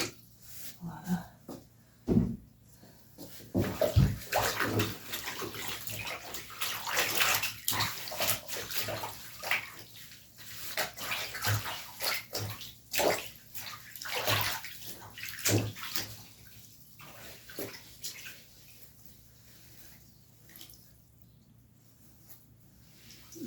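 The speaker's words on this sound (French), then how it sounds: "la laisser tremper un petit moment. Avec un petit peu de savon dans l'eau." A delicate dress soaking and being worked by hand in a basin of soapy water: irregular sloshes, squishes and splashes close by, with quiet stretches between the bursts of movement.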